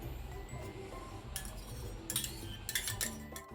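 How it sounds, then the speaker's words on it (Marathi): A metal spoon clinks against a bowl while mixing curd and melted butter into a butter chicken marinade, giving a few sharp taps and scrapes over a quiet, faint background. "आणि आता हे मिक्स करून घेते"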